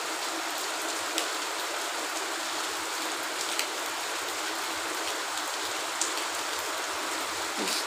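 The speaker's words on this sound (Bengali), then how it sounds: "প্রচুর বৃষ্টি মুষলধারে।" A heavy downpour falls outside, a steady broadband rain hiss that holds for the whole stretch, with a few faint drips and taps standing out now and then.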